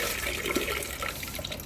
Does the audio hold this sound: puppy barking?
no